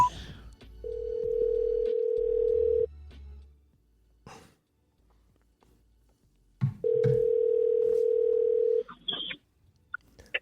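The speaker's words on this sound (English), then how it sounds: "Let's call Wayne" A telephone ringback tone purrs twice in long steady bursts with a gap between, clear and close, followed by brief rustling and faint breath noise.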